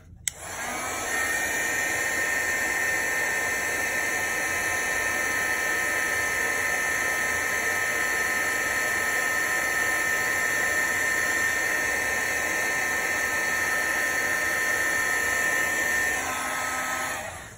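A heat gun blowing hot air to melt embossing powder on a stamped card, a steady close whooshing roar that starts abruptly and holds evenly for over fifteen seconds before cutting off.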